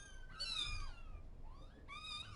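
Kittens found in a trailer give two drawn-out, high meows separated by a short pause, close by and fairly clear over quiet room noise.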